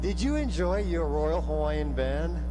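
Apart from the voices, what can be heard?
No everyday noise stands out behind the speech.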